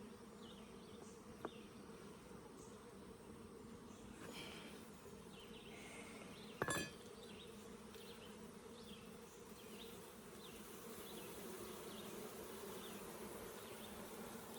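Honey bees hum steadily and faintly around a Forestry horizontal hive during installation, a continuous drone with a few soft knocks and one sharp click partway through.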